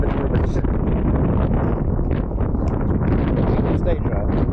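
Strong wind at Lake Tennyson buffets the microphone in continuous low, rumbling gusts, nearly drowning everything else.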